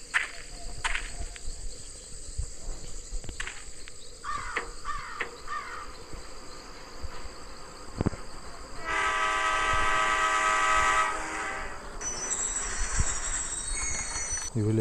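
Train sounds in a horror-style Spider-Man video game, with a rising mechanical drone and layered tonal rumble that swells loudly midway, alongside chirping insect-like ambience and brief sharp clicks, without clear speech.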